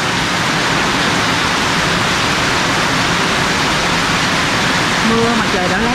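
Heavy typhoon rain in the evening pours steadily and loudly, a dense unbroken hiss that fills the whole clip, with a faint voice just surfacing near the end.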